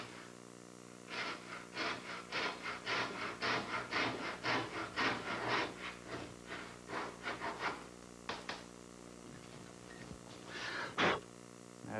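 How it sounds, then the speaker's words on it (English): A hand saw runs down a joint between wooden boat planks, a long series of rhythmic rasping strokes that grow quicker, then a pause and a couple of final scrapes, fairly close and alone. "if I run the saw right down the joint"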